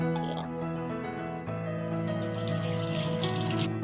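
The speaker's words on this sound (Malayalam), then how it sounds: "നമ്മളിതാ അതിലോട്ട് കുറച്ച് വെള്ളം ഒഴിച്ചിട്ട് കഴുകി ഇതിലോട്ട് ചെയ്യാം" Water splashes from a pour into a vessel to rinse it, a steady rushing stream that grows fuller toward the end, with a tonal musical backing underneath.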